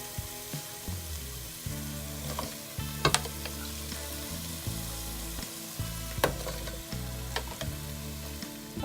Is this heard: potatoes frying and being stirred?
yes